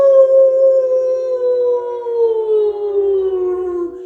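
Voices imitate a wolf howl during a children's yoga game, one long sustained howl holding steady and then sliding slowly downward over about four seconds, loud and alone.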